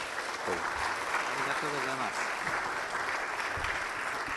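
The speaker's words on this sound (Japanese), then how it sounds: "皆さん拍手をお願いいたします" Steady applause from an audience at a press club event honoring the German ambassador to Japan, filling the room continuously with a few voices speaking faintly underneath.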